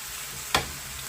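Young potatoes frying with button mushrooms in a pan on a gas stove that has just been switched off get one quick scraping stir, a short swish over a faint, steady sizzle.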